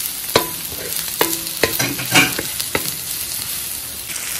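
Whole head of garlic frying in a pan for kare-kare, a close sizzle broken by several sharp clinks and scrapes of a utensil stirring against the pan, no voices.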